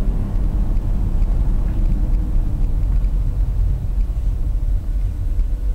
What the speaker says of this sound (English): And we can give her some gas.